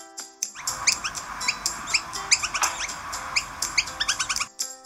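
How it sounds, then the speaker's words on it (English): Small bird chirping in a rapid run of bright, high tweets and short calls, fairly close and steady throughout, with no voices over it. "The bird. El pájaro."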